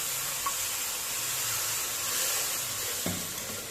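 Almonds and poppy seeds roast in a pan with a steady, soft, hissing sizzle, broken by a couple of faint clinks as they are stirred.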